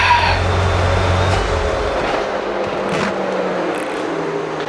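A Corvette C6 Z06 engine runs with a steady, deep rumble, loud and close, holding a fairly even drone throughout.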